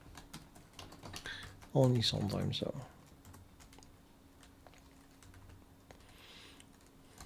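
Quiet clicks of typing on a computer keyboard in a dark room, soft and close, running under a brief spoken remark and continuing faintly after it.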